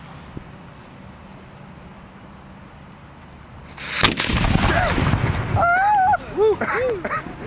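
A cannon fires in a historical demonstration at Baltimore, one sudden loud boom that rolls and echoes away after a quiet stretch, followed by voices reacting.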